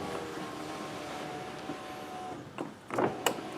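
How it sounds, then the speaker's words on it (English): A Cadillac ATS passenger power window motor whirs steadily as the glass runs down and back up, with a couple of short clunks near the end. "we'll make sure we roll it down"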